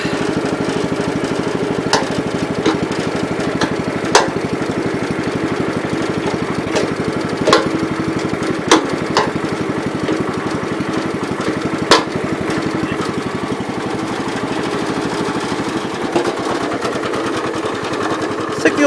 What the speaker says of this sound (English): Let's take the old John Deere out for a spin here.